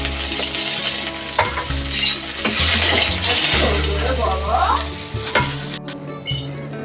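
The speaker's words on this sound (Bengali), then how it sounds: "মাছটা একটু ভালো করে উল্টে ভালো করে একটু ভেজে নেব।" Fish fries in a pan with a loud, close sizzle and crackle, broken by a few clanks and scrapes as it is stirred and turned.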